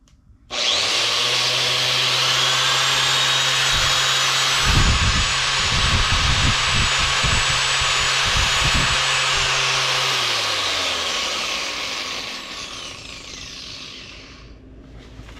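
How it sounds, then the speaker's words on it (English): A wire wheel grinder and a drill, powered by a Bluetti EB55 portable power station, spin up sharply and run steadily with a high whine and grinding rasp, holding for many seconds before slowly winding down. "running the wire wheel plus the drill, plus the light"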